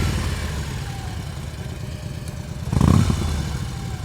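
A motorcycle engine idles and putters at low revs during slow-speed riding practice in North Carolina, steady and close, with a brief throttle blip near the end.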